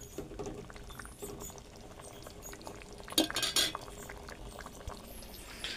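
Cooked masoor dal is stirred in a pot with a spoon, producing soft scraping and faint clinks and a louder metallic scrape midway, all fairly quiet, with no voices.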